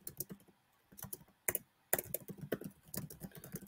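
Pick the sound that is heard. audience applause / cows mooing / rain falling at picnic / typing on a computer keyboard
typing on a computer keyboard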